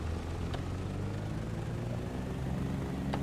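A twin-engine plane taxiing in Microsoft Flight Simulator 2020 produces a steady, loud engine drone and rumble, continuous and unbroken, with no talking.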